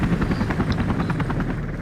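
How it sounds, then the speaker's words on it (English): A helicopter boss in the video game 007 Agent Under Fire whirs with a steady, loud rotor chop and engine drone that runs throughout, with no talk over it. "So you're fighting this Whirlybird, right?"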